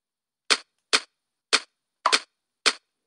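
Five sharp, loud gunshots from a VR paintball video game, each a crisp isolated crack spaced roughly half a second apart, with two shots nearly overlapping near the end and silence between them.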